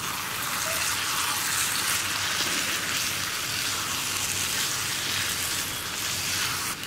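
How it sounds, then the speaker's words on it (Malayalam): A Kerala hotel-style egg roast curry cooks in a pan with the oil separating out, giving a dense, even, close sizzle that holds steady throughout with no talking. "പിന്നെ നമുക്ക് വീണ്ടും ഇളക്കി കൊടുക്കാം."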